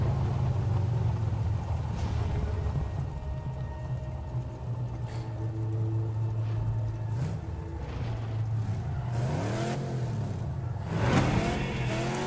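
A car driving in the Mad Max video game: a continuous, close engine drone whose revs climb and dip in repeated sweeps, with a brief louder surge near the end and no voices.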